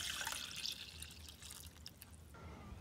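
Small splash of water poured into a cooking pot holding tomatoes, onion and a garlic clove, heard as a brief trickle and dripping at close range for a couple of seconds before it settles.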